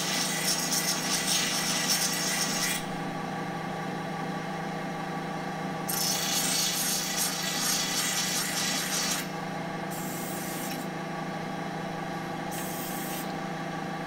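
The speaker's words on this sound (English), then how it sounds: "It's quick and easy to grind off the shavings from both ends of the pipes." A big mounted grinder works metal shavings off steel pipe ends for geodesic dome struts, a steady loud motor drone with bursts of harsh hissing grinding that come and go in several passes.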